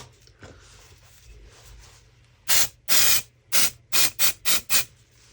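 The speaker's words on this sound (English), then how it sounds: "a little bit of silicone release spray." Short bursts of silicone release aerosol sprayed onto moulds, a pause of low background noise and then seven hissing sprays in quick succession, close and loud.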